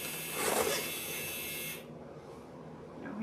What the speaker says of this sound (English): Y'all hear my buzzer going off?